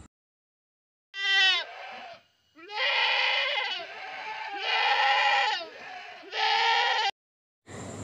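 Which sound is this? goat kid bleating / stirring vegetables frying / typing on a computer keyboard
goat kid bleating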